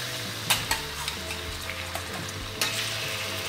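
Beef sizzling and frying in a hot pan for a Khmer dish, with a steady hiss broken by a few sharp stirring scrapes and clinks, close and alone with no talk.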